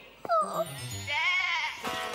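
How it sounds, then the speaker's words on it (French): A sheep bleating in a French children's cartoon, with a couple of clear, wavering bleats close up and a brief thump at the start. "je vais rendre le mouton au berger"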